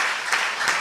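A church congregation claps together at a Sunday worship service, a dense, steady wash of applause swelling briefly twice in a short burst with no voices.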